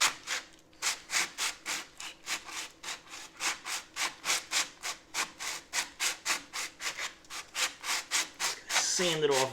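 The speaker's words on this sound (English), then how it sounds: "Sand it off very carefully" Repeated hand sanding of excess fiberglass on a 1965 Corvair part, steady back-and-forth rasping strokes close up, about three per second, ending in a brief higher scrape.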